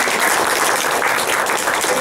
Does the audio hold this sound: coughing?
no